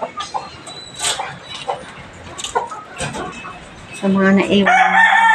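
Pet chickens and chicks: scattered clucks and chirps with someone talking over them, then a loud rooster crow near the end.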